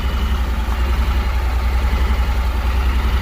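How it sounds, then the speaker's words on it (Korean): A high-mileage motorcycle engine idles steadily nearby, a low, even throbbing putter without rattles and with no voices over it. "아직 엔진 소리 괜찮아요"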